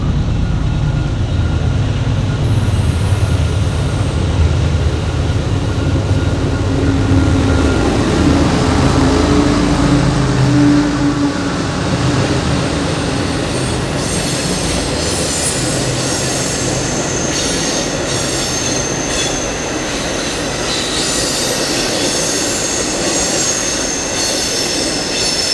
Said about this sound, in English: we caught a northbound empty ore train exiting the Mile 29 tunnel